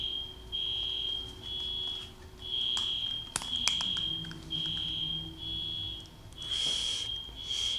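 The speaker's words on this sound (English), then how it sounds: "set off the alarm in the apartment building" Apartment building fire alarm sounding off in repeated high-pitched beeping bursts with short gaps, loud and steady throughout, with a few thumps and background noise.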